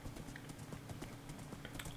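Horse hooves clip-clop in a quick, steady rhythm in the video game Minecraft, faint and close, with no talking over them.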